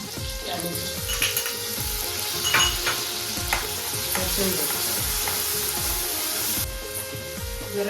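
Onion and garlic hit hot oil in a pan as the tempering for a home-style prawn curry, giving a loud, continuous close-up sizzle with intermittent scrapes and knocks of stirring throughout.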